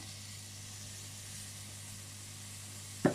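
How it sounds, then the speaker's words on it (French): Bacon lardons melt in a pan for a leek tart, giving a steady, soft, broad sizzle with a low constant hum beneath and a brief sharp clunk at the very end; no one talks. "Alors je fais fondre les lardons."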